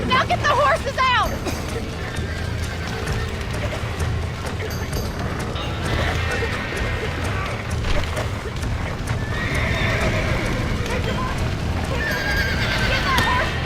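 Horses whinny repeatedly over the steady thud of hooves, with a busy crowd murmur and voices filling the background throughout, in the video game Red Dead Redemption.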